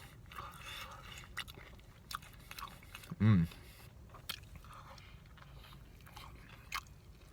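A single close crunchy bite into a Taco Bell chalupa, followed by soft chewing and faint scraping under quiet background sound.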